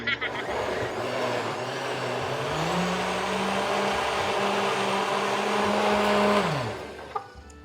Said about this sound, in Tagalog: Ito yung blender sa likod ko.